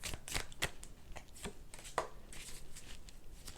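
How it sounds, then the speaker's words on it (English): Tarot cards riffle and slap close by as they are shuffled and drawn, a quick irregular run of papery flicks and snaps with no talking. "So I'm just pulling some cards to see a little bit about our past"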